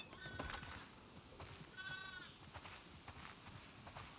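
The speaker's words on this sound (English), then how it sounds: "Listen up, sheep." Sheep on a farm by a barn in the video game The Last of Us Part II give a couple of faint, quavering bleats, one short and one longer, over soft background ambience.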